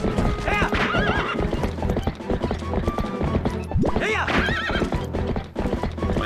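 Horse in the video game Zelda: Twilight Princess, with steady hoof clip-clop of galloping and two loud neighs, backed by game music and effects throughout.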